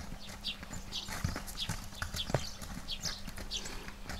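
Horses walking at a farm, their hooves clip-clopping in a steady uneven rhythm at moderate distance, with faint background voices.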